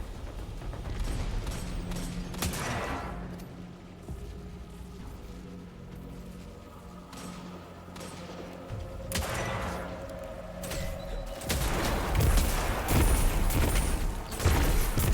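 Gunfire and explosive blasts from the video game Destiny 2, a dense run of shots and booms that swells louder toward the end, with no talk over it.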